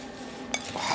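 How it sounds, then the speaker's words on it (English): A spoon stirs apple and pear crumble filling with nutmeg in a dish, giving one brief scraping clink against the side amid soft, low mixing noise. "We're just going to give it a little mix, try and get it all even."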